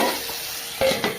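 Eggplant stir-fried with salt in a pan gives a steady sizzle, with a couple of scraping stirs near the end.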